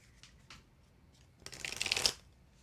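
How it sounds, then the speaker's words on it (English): Playing cards shuffled once in a short, bright riffle burst, followed by a brief card pull, close and fairly soft after a few light handling taps. "Mary Jane, pulling a card for you, my dear."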